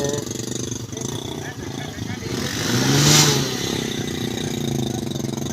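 Motorcycle engine revving beside the Sutlej river, a steady mid-pitched engine drone that swells briefly to a louder rev, heard under ongoing outdoor noise and talk.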